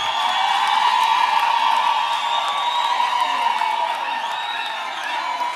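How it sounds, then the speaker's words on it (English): Graduates at a university graduation ceremony clap and cheer together, a dense, steady wash of crowd noise with whoops and shouts sustained throughout at a loud, even level. "you can clap and cheer and sound happy"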